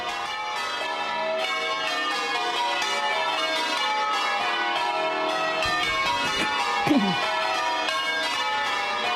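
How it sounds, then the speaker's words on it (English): Church bells toll in Charleston, South Carolina, ringing steady, overlapping tones that hang in the air, with a brief low thump partway through and no talking. "Church bells tolled throughout Charleston, South Carolina on Sunday"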